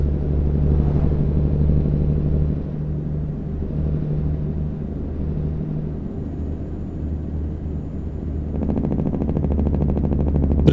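Heavy diesel drone from a custom Z Mods N14 engine in a Peterbilt 389 in American Truck Simulator, a constant low rumble up close that dips slightly, then turns gruffer and buzzier toward the end.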